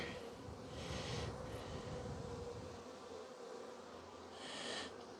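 A steady, droning buzz of many bees hums close by, swelling slightly in places, with no voices.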